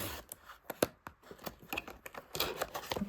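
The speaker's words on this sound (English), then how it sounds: "I'll get my scissors and I'll do the tape on the top." Scissors cutting packing tape on top of a small cardboard box holding a beginner embroidery kit, a quiet run of sharp snips, scrapes and taps in uneven rhythm, close by with no talking.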